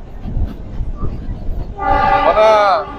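Kalka–Shimla toy train rolling into Shimla station, wheels rumbling along the track before a loud, sustained horn blast sounds close by near the end, with faint voices underneath.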